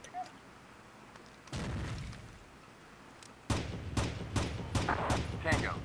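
A frag grenade goes off in the Rainbow Six video game with a heavy, rumbling boom that lingers. A rapid run of sharp gunshots follows, loud and close.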